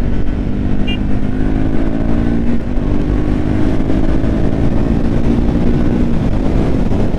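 A Triumph Speed 400 motorcycle cruises at speed on a highway while overtaking, its engine holding a steady, loud drone with rushing wind noise throughout, close up and with no talk.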